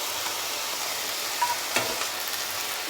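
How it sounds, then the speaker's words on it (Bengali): Onions fry gently in oil, a steady close sizzle broken by a couple of soft stirring scrapes, with no talking. "পেঁয়াজটাকে একটু ধীরে সুস্থে ভেজে নেব"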